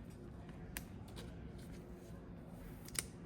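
Soft swishes and slides of a foil Overpower trading card being pushed into a plastic card sleeve, faint and close, with a couple of light plastic flicks.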